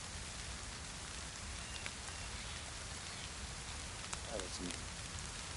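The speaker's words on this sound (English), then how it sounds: "And it's raining again." Steady rain falls in the survival video game DayZ, a soft constant hiss throughout, with someone briefly speaking over it near the end.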